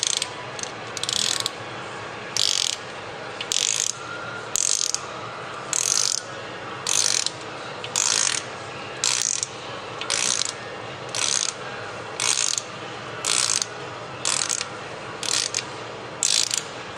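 A ratchet with a 14mm socket tightens a bolt on a 2007 Subaru Impreza, its loud, close pawl clicking arriving in about fourteen regular bursts, one roughly every second, with no talk.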